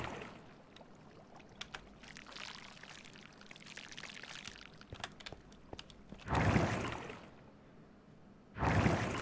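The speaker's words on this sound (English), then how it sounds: "This is my water elevator up." Water elevator bubbling in Minecraft, a whooshing, rushing water surge that swells loudly twice near the end, after a quieter stretch of faint clicks and low watery noise.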